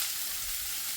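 Ingredients sizzling and popping in a hot frying pan, a steady bright hiss close up with no talk.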